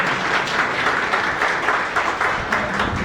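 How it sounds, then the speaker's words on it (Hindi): A crowd at a foundation day celebration applauds steadily throughout, dense continuous clapping from many hands, loud and even with no break. "इसको तारीफ करते हुए तालियों के साथ इसकी तारीफ करें।"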